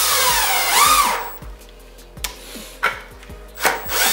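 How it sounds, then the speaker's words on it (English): A 1-inch bit bores through the side of a plastic bucket in a short burst of loud grinding, then stops, leaving a few sharp clicks and knocks. A voice speaks one brief word. "This is a 1-inch bit so that it will thread, my bung will thread right into the side of the bucket."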